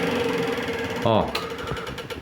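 An M300 electric cable stripping machine strips the jacket off a thin 0.75 mm cable with a short, rising mechanical whir and ratcheting clatter, heard close over steady background motor hum.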